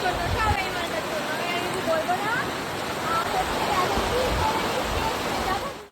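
Heavy rain falling outdoors on a trip to a kash grass field, a steady dense hiss and patter filling the whole stretch at constant loudness, with no talk over it.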